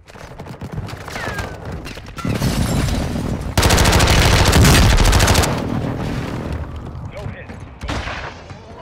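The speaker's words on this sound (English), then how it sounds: "Somebody shooting at me." Loud bursts of rapid gunfire aimed at the player in Call of Duty: Modern Warfare II, with dense volleys peaking mid-clip among game noise and a voice talking.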